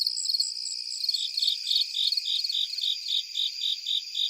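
Crickets of several species calling at night, a steady pulsed chirping that repeats in an even rhythm, close and clear with no voices over it.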